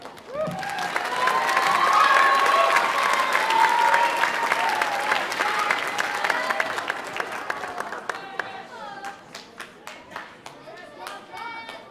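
Warm audience applause fills a school hall at a grade 6 holiday concert, a dense sustained clapping that swells early and then thins into scattered claps with some children's voices.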